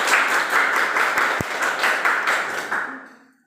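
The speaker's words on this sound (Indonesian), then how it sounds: "Bagus, tepuk tangan." A classroom of students applauds together, a steady wash of many hands clapping close by that fades out near the end, with no talking over it.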